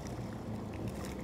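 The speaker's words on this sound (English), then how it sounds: "When you're approaching the wharf, like Brody is now, come in nice and steady, so in and out of gear" A Yamaha personal watercraft idles at low speed while easing toward a wharf, its engine making a low steady rumble mixed with wind and water noise.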